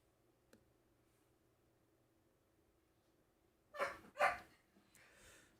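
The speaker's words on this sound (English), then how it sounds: "what you hear in the background is my dog" A dog barks twice indoors in the background, two fairly loud close barks after a long quiet stretch, followed by a faint trailing sound.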